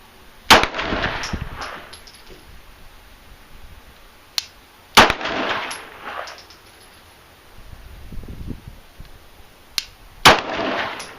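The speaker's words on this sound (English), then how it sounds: "25 yards with the Glock. Here we go." Glock pistol shots fired at a steel target 25 yards away crack out sharply, about five of them spaced unevenly over several seconds, with quiet background between.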